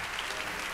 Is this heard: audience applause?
yes